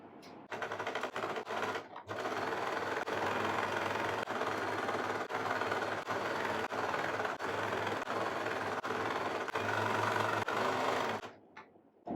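A sewing machine top-stitches along the neckline of a churidar lining, running steadily and loudly for nearly the whole stretch after a brief start-stop near the beginning, then halting at the end.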